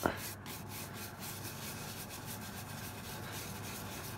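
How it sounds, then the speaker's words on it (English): Warm wax is rubbed by hand onto an ammonite fossil, a soft continuous close scrubbing and rubbing sound with a faint thump at the start. "Just rub a little bit of that in."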